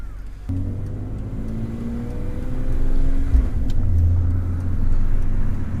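A 2003 BMW E46 M3 CSL accelerating hard in a burst, the engine note rising into a loud, sustained drone heard from inside the car, with no talking.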